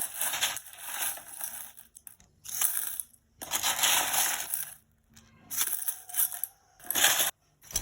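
Small pieces of crushed glass being handled and added to a resin calligraphy craft, giving bursts of bright, gritty clinking and rattling with short silent gaps between them, close and fairly loud.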